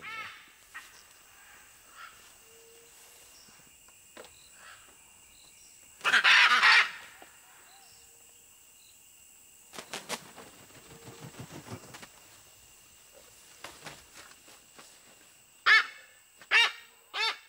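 Scarlet macaws in a Costa Rican reintroduction project give harsh, raspy calls, a few loud bursts scattered over quiet forest background with fainter calls in between.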